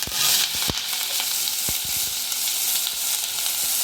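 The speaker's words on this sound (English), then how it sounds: "now we're going to toss in our diced onion" Diced onion hitting hot olive oil sizzles loudly and steadily throughout, a dense continuous hiss broken by a few sharp crackles and pops, close up with no talking.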